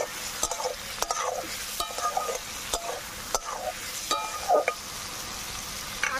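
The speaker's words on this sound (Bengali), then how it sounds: "আলু দিয়ে পেঁয়াজের সাথে একটু ভেজে নেব।" Potatoes and half-fried onions sizzling together in a pan, a constant close crackle punctuated by regular sharp clacks and scrapes of a spatula stirring the mixture, with no talking.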